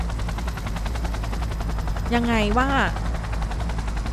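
A helicopter in the video game Cyberpunk 2077 gives a steady, loud rotor drone with rapid gunfire, while someone speaks briefly over it.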